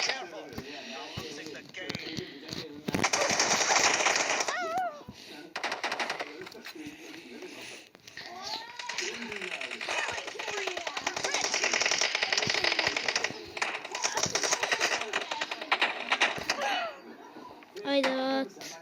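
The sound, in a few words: gunfire in a video game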